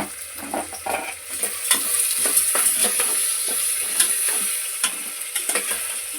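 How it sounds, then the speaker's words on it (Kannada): Onions frying with salt in a pan for tomato bath, a steady close sizzle with scattered stirring clicks and scrapes throughout, no voices. "ಈರುಳ್ಳಿ ಚೆನ್ನಾಗಿ ಫ್ರೈ ಮಾಡ್ಕೊಂಡು ಈಗ ಈರುಳ್ಳಿ ಫ್ರೈ ಹಾಕೋದಕ್ಕೋಸ್ಕರ ಉಪ್ಪು ಹಾಕ್ಕೊಳ್ತಾ ಇದ್ದೀನಿ"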